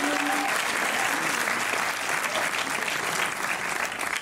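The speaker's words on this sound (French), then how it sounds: "Je vous remercie de les applaudir s'il vous plaît." Audience applause fills a cinema screening room at a film presentation with the directors present, a dense, continuous clapping that holds steady throughout without fading.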